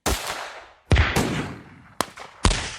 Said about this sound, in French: Des coups de feu m'extirpent de notre conversation.